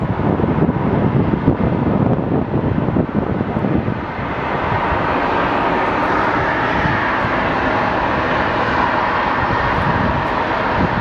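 A British Airways airliner at Phoenix Sky Harbor Airport gives a continuous, loud jet-engine roar throughout, with wind buffeting the microphone and a slight shift in tone partway through.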